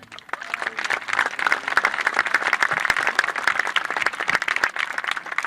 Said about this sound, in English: a big cheer for them too